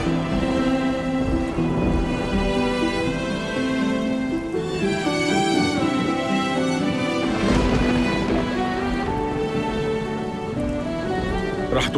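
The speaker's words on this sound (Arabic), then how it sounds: "المطر رح يكون قوي اليوم" Heavy rain pours steadily outdoors in a drama scene, a dense, loud wash of falling water with a low rumble underneath, while music plays over it.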